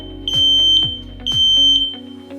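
A smoke alarm sounds loud, piercing high-pitched beeps in a steady repeating pattern, close and alone with no voices.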